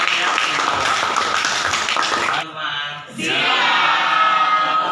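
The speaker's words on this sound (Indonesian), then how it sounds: "Tepuk tangan untuk yang bertanya" Students in a classroom physics lesson on thermal expansion clap loudly together for a few seconds, then the applause stops abruptly and a quieter, more tonal sound follows.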